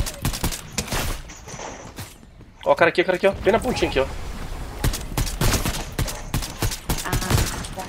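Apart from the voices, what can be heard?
gunfire in video game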